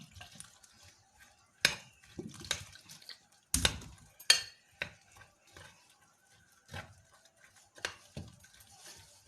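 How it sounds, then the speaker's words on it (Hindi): Water poured into a pakora batter of gram flour with cumin and carom seeds, heard as scattered drips, splashes and clinks of a bowl and utensils, close and intermittent with quiet gaps. "और अब हम लोग इसके अंदर पानी ऐड करेंगे।"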